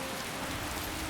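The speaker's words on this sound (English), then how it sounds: "an excuse to get out of the rain" Steady rain in the video game Skyrim near Dragon Bridge, a dense, even hiss of falling drops filling the whole moment with no talk.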